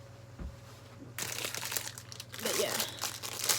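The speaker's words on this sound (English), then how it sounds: "kitchen foil, the tin foil." Kitchen tin foil crinkles and crumples close up for several seconds in a home kitchen while dinner is cooked, loud and irregular after a quiet start.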